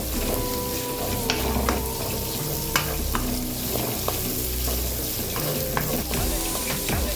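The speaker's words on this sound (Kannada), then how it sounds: "ಕ್ಯಾಪ್ಸಿಕಮ್ ಹಾಕಿ ಚೆನ್ನಾಗಿ ಫ್ರೈ ಮಾಡಬೇಕು" Capsicum stirred and frying in a hot pan for Gobi Manchurian, with a steady close sizzle broken by repeated scraping stirs and clinks of the spoon throughout, no voices.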